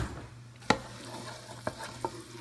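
Onions frying in oil while being stirred with an old wooden spoon: a soft steady sizzle with a low hum beneath, punctuated by a few sharp scrapes and clacks of the spoon against the pan.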